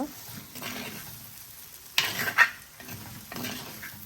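Tomatoes are stirred into a soya curry in a pan: soft sizzling under a few sharp scrapes and clinks of a spoon against the metal, close up and without speech.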